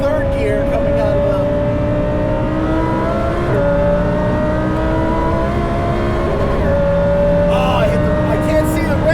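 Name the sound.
870 hp supercharged Lamborghini Huracan Performante engine accelerating on track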